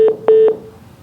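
Telephone keypad dialing during a phone call-in at a Rhode Island legislative session: three short, loud dual-tone beeps, the first brief and the second held longest, then a fading tail.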